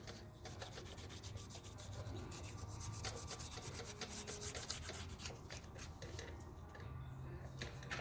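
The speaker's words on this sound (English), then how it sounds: "So I'm just gonna go ahead and do a little bit cleaning. It's just the surface where the gasket sits." Scraping and rubbing while cleaning the gasket mating surface on an Acura MDX engine during a timing belt job, a steady close rasping scrub with repeated short strokes over a low background hum.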